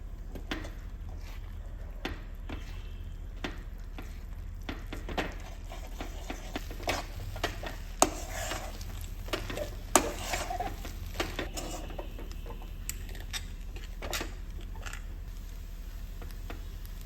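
Rice flour being stirred into boiling salted water with a little oil in a pot, a spoon scraping and knocking against the pot in a quick irregular rhythm over a low steady hum, no talking.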